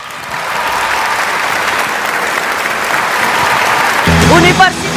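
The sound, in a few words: audience applause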